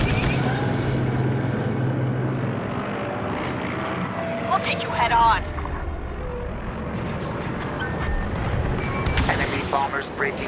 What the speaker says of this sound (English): bombers breaking through. Intercept.